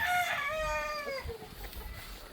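A rooster on a chicken breeding farm crows once, loud and nearby, trailing off into softer clucking amid faint farmyard background.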